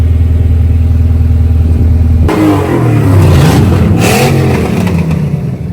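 A Honda Civic hatchback with a B-series VTEC engine and big injectors starts up from a loud idle, then revs hard in rising and falling bursts, close and dominant.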